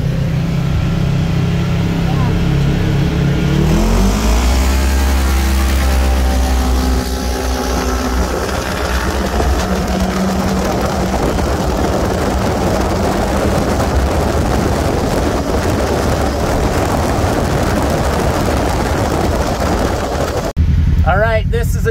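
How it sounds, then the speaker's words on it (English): Engines of a Force Turbo KRX and a stock KRX side-by-side drag racing roar loudly and steadily throughout, rising as the machines accelerate, with people talking over the noise. "Jared and Jared from Big Pine were with the Force Turbo KRX against the stock KRX."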